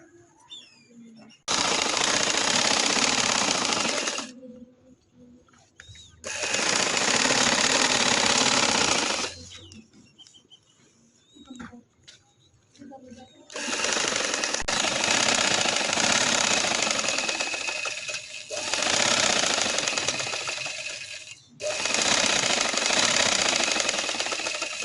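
A sewing machine stitching a dress during resizing runs in loud, fast, rattling bursts of a few seconds each, separated by short pauses where someone talks quietly.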